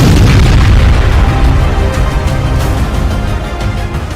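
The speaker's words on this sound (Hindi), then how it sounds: "ये धमाका रूस में हुआ है।" A huge explosion in Russia sends a fireball into the sky, heard as a continuous loud, deep rumbling roar that slowly eases without fading away.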